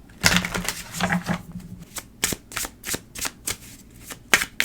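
A deck of Wisdom of the Tao oracle cards is shuffled by hand, producing a run of close, crisp riffling bursts and soft taps in quick uneven rhythm.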